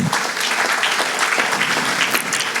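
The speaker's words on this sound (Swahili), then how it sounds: "Tumpigie Yesu makofi." A church congregation claps together in sustained, dense applause that fills the room evenly, loud and close, with no voices rising over it.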